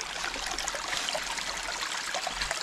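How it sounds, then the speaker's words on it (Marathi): Spring water flowing steadily from a stream in a Konkan village, a constant close trickling rush with no voices. "तिथून ते खूप चांगलं पाणी येतं आहे झऱ्यातून"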